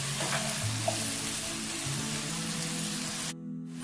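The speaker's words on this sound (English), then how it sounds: "we're going to allow that to fry until the onions develop a little bit of colour" Chopped onions frying with salt in a pan over medium-high heat, a steady close sizzle that holds level for about three seconds before cutting off abruptly.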